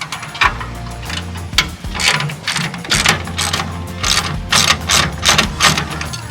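Loosening a fastener on an e-bike hitch rack rated for RV and Class A towing produces rapid ratcheting clicks and metallic mechanism rattles in bursts, close and fairly loud, with no talking.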